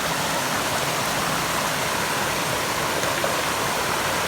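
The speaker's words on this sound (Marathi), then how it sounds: "मुख्य धबधबा हा इथे आहे" Steady, dense roar of falling water, unbroken and loud throughout, from a hidden forest waterfall in Chiveli, Konkan, heard up close.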